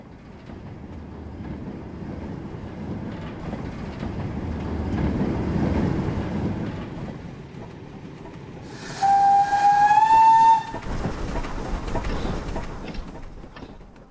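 An LBSCR D1 class steam locomotive in Train Simulator rolls along with a steady rumbling chuff, then gives a clear steam whistle blast lasting over a second before the running noise carries on.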